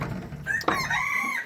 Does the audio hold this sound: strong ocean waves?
no